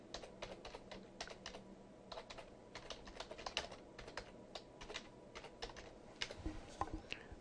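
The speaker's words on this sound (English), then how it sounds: "I'll type the term in and then hit search." Keys clack steadily on a computer keyboard while a search term is typed for a library database search, a quick irregular run of light taps heard close and alone with no talking.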